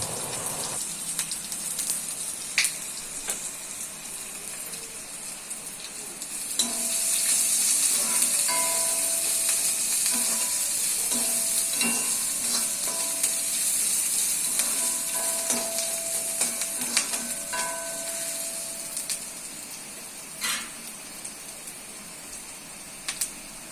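Onions sauté in a pan with salt for plantain podimas, a steady hiss of frying that swells partway through, marked by occasional sharp pops and clicks, with no talking.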